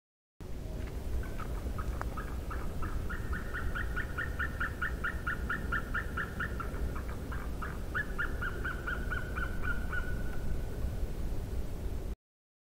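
A white-tailed eagle gives a long series of rapid, high yelping calls, evenly repeated in runs, clear against a steady hiss of background noise.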